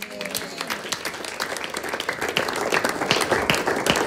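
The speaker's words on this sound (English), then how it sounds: "Give the Lord a clap for that one." Church congregation clapping during a live-streamed service, with many distinct hand claps forming a moderate, uneven patter that grows slightly louder and denser over four seconds.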